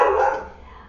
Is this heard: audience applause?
no